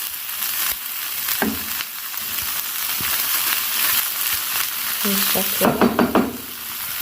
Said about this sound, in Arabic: نحط الطماطم، نديها برضو تقليبه صغيره.